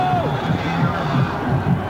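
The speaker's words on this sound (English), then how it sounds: "Crowd comes to life a little bit as the Cougars show a little sign of life on the offensive side of the ball" Crowd at a 1996 Washington State Cougars versus Washington Huskies college football game in a stadium, a steady, moderately loud wash of cheering and babble with scattered whoops rising from the stands, heard alone without close voices.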